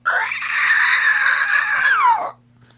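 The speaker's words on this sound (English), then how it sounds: "There is a sudden piercing screech" A sudden piercing screech rises out of the darkness: one loud, long, shrill cry that holds steady for about two seconds, then bends downward and cuts off, with a faint low hum beneath it.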